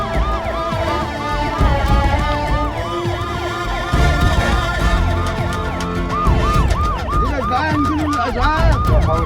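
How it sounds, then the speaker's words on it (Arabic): A wailing ambulance siren rises and falls repeatedly, loud and close, over a low rumble of traffic. "اسعاف!"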